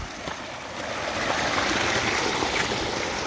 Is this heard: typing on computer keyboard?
no